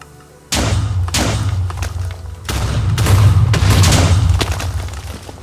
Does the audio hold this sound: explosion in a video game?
yes